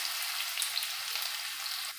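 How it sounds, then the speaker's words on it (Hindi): Chopped onions fry in a pan with whole cardamom and cloves for soya pulao, giving a steady, close, even sizzle with no talking. "तो प्याज को ब्राउन कर लेते हैं।"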